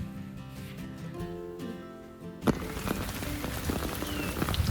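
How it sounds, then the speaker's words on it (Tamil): Steady rain falls on a surface in a rainy Batticaloa setting, a dense patter of drops that builds louder after a soft musical passage fades out. "மழையின் துளியில் லயம் இருக்குது, துளிகள் விழுந்து ஸ்வரம் பிரிக்குது"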